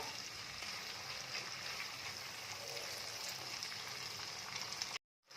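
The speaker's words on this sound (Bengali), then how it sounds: "দিয়ে এটাকেও অন্তত কিছুক্ষণ একটুখানি ভাজা ভাজা করে নেব তেলের সাথে" Mutton sizzles steadily in hot oil with ginger and garlic, a dense even crackle that holds close and loud before cutting off abruptly near the end.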